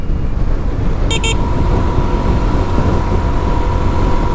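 Heavy holiday traffic jam heard from a GPX Demon motorcycle on the road, with a constant loud roar of engines and road noise and two quick horn toots about a second in.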